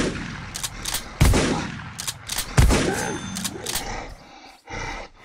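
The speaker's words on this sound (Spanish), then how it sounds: "Me compré una escopeta, ya que estamos, vamos a practicar un poco de tiro." Two loud shotgun blasts from the video game Creatures Inc, each a sharp broadband crack with a short tail, spaced about a second and a half apart, followed by softer game noises and faint talk.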